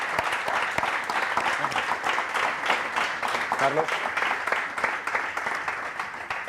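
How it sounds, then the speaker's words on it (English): A conference audience at Startup Grind Barcelona gives steady applause after a talk, dense clapping from a room of people lasting several seconds, with a brief voice calling out over it. "Give a warm applause for Angel."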